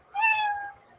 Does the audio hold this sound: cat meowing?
yes